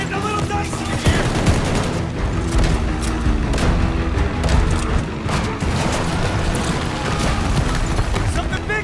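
Gunfire and explosions in the shooter game Call of Duty Vanguard, rapid bursts of shots and heavy booms layered into a dense, loud battle din with a voice speaking over it.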